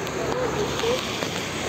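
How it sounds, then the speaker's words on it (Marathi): Heavy monsoon rain pours over flooded ground near a river bridge in Chiplun, a dense, steady hiss filling the scene with a faint voice underneath. "पाऊस अजून चालू आहे त्यामुळे अजून भरण्याची शक्यता खूप आहे"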